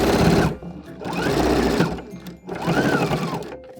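A sewing machine stitches a dress hem in three loud, steady running bursts separated by brief pauses, with no talking.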